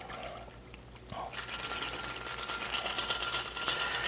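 A lemon drop cocktail pours through a fine mesh strainer into a glass; after a short pause a soft, steady trickle of liquid begins and runs on quietly to the end.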